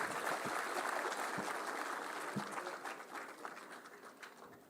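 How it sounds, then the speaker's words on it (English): Audience applause at a foundation day award ceremony, a steady wash of clapping that starts full and gradually thins and fades toward the end, with no voices over it. "A big round of applause, please."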